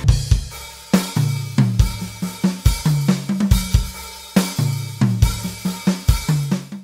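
Programmed drums pound alongside a heavy distorted guitar in a darker, minor-key rearrangement of a song, with loud punchy kick-and-snare hits in a steady driving rhythm and no voices.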